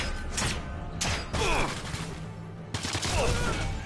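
Gunfire in the Sniper Elite 3 game: several sharp, loud bursts of shots and impacts arrive in irregular clusters, with brief rattling pauses between them.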